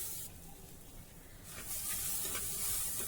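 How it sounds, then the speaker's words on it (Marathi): Watermelon seeds roast in a kadhai with a soft, steady sizzle and scattered light crackles and pops that grow a little louder toward the end, with no voices. "ह्या कलिंगडाच्या बिया देखील मस्त भाजून झाल्या आहे, अगदी खरपूस झाल्या, फुगल्या आणि तडतडायला लागल्या आहे"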